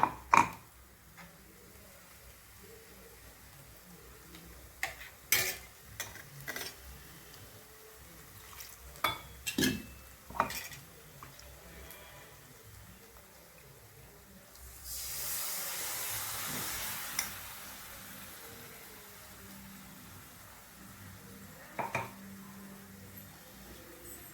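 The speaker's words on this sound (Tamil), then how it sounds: "இது வதங்கி எண்ணெய் கரண்டு வரட்டுங்க." Masala paste sautés in oil in a pan for chana masala, a faint sizzle broken by scattered spoon scrapes and clinks, with a louder burst of hissing midway, no voices.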